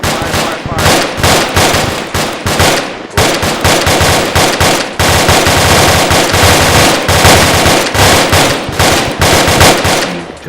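Rapid automatic weapon fire during an infantry fire-team training exercise, loud and close, with dense bursts continuing almost without pause and short shouted commands barely audible beneath the shots.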